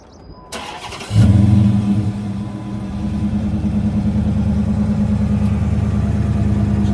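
A Dodge Challenger R/T engine cranks and catches, then settles into a loud, steady idle with a slight rise in revs, close by.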